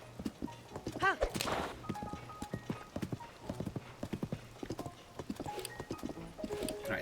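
Horse hooves clip-clop steadily on the ground in the video game Tears of the Kingdom, a close, rhythmic gallop with a brief whinny near the start and game sounds layered around it.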